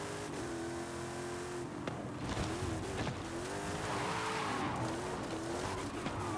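Cars drift in the Forza Horizon 5 racing game, with engines revving and tires squealing in long wavering tones, loud and continuous over several seconds.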